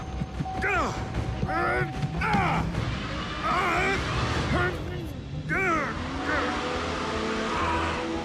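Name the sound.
car driving and skidding in a cartoon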